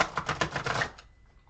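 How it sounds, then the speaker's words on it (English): Large tarot cards are shuffled in a quick clattering riffle of rapid snaps that lasts about a second and then fades into quiet. "Let's shuffle these cards and see what's up."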